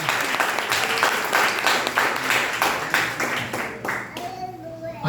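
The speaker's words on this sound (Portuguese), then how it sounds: "E dê uma salva de palmas para o mestre." Congregation applause during a sermon at an Assemblies of God church service, loud dense clapping filling the room close by, with a few voices calling out over it before it thins out near the end.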